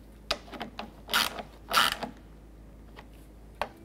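Radiator mounting bolts are snugged down on a 2009-2015 Honda Pilot, with short metallic ratchet clicks and creaks coming in bursts at close range and brief pauses between them.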